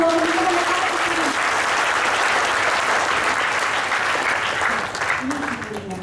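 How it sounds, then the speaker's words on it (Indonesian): An indoor audience gives a loud, sustained round of applause that keeps a steady roar for about six seconds and thins out near the end, with a voice briefly audible over the clapping. "Tepuk tangan dong yang paling meriah buat teman-teman yang ada di sini."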